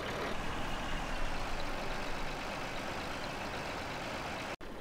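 A tractor engine drones steadily as it labours slowly up an extremely steep hill on a farm in a farming video game, a dense, continuous low rumble with no talk and a brief dropout near the end.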